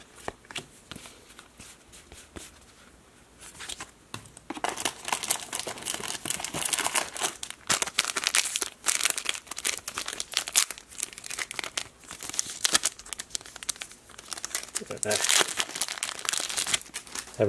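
Foil Zendikar Rising draft booster pack wrappers crinkle and tear in bursts of crisp plastic rustling, close and fairly loud, with a quieter stretch at the start and steady handling throughout.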